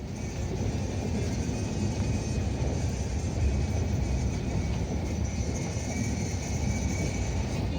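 The Tourist Express glass-roofed train runs through forest, a steady low rumble and rattle of carriages rolling along the track, continuous and even throughout.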